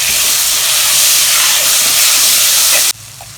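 Onions, green chillies and tomato hit hot oil in a pan with a loud, continuous hiss and sizzle that cuts off abruptly near the end, leaving a quieter background.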